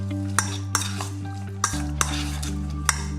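Marinated pork pieces, dressed with soy sauce and white wine vinegar, are mixed in a bowl, giving several sharp clinks and scrapes over a steady low hum, with no talking.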